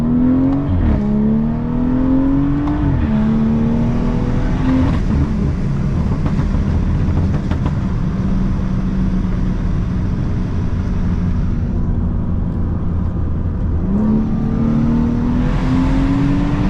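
A straight-piped BMW 340i engine revs hard while driving, loud and close, its pitch sweeping up and dropping back between gear changes over a steady droning exhaust.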